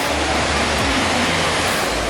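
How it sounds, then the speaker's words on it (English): A steady, loud roar of falling water from a waterfall in Singapore fills the whole clip, constant and unbroken, with no voices. "So weird seeing the waterfall like this."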